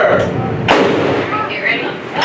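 A ship's cannon fires aboard USS Constitution, one sharp loud boom with a broadband burst that rings out over constant crowd and deck noise, with people talking around it.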